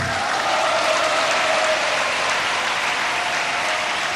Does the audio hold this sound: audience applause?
yes